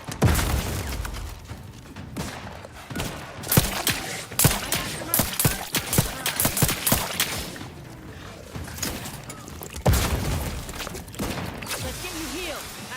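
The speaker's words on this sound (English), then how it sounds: "Oh shit, he throw a grenade." A grenade explosion and bursts of gunfire in the video game Outer Worlds 2, sharp repeated shots and thuds scattered across the clip, moderately loud.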